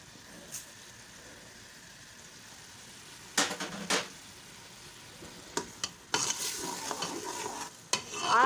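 Spices go into a pan for chana dal gosht, with quiet sizzling frying and several louder bursts of stirring and scraping against the pot.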